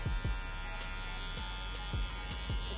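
Electric hair clipper fitted with a number 1 guard buzzing steadily while cutting hair in a barbershop fade, with a constant motor drone and repeated low thumps as the blade passes over the head.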